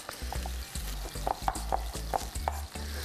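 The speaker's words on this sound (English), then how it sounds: "it's starting to get that nice sear right there" Chicken sears in a hot pan with a soft, continuous sizzle, punctuated by a few quick clicks and scrapes as the pieces are stirred and turned.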